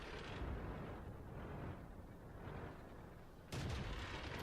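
Tank cannon fire in the World of Tanks video game comes as low rumbling booms, with a sharp heavy blast near the end over a constant muffled battle backdrop.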